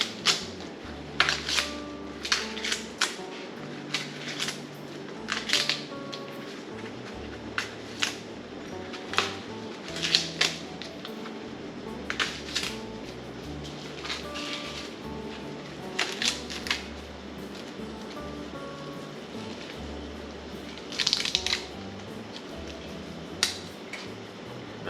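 Husks being peeled by hand off Silver Queen hybrid sweet corn at harvest, giving repeated crisp tearing and rustling bursts at close range, with brief pauses between pulls and no talk.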